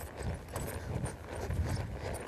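Hooves of a small gaited horse clip-clop softly under a rider, a faint steady rhythmic patter over light outdoor noise.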